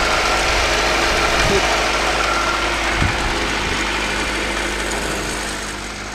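A freshly cleaned car engine runs at idle with a steady, close, mechanical drone and a couple of brief knocks or clunks, the level easing slightly toward the end.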